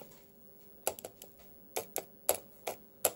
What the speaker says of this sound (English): if I take my calculator and I type in 42 divided by 4